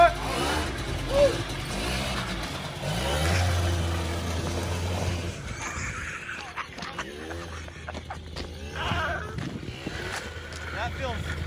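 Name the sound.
Suzuki LT80 ATV engine revving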